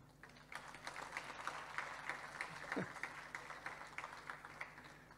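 An audience at a Maharashtra government language department event applauding steadily, moderately loud clapping from a crowd sustained throughout, with a voice briefly heard in the middle.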